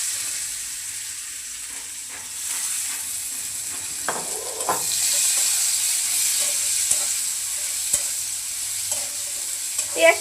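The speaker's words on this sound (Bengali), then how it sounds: "পেঁয়াজটাকে ভালো করে ভেজে নেব।" Chopped onions with cumin fry in a pan for a pangas fish bhuna, a soft continuous sizzle broken by scraping stirs and occasional clatter of a spatula, with no one talking.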